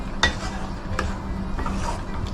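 A spoon stirs butter chicken masala in a pan, giving a few scraping clinks against the metal over a steady low simmer, close and moderately loud with no talking.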